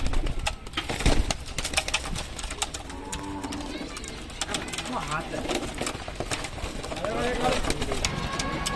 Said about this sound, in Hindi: ये सारे ही पंजाबी कबूतर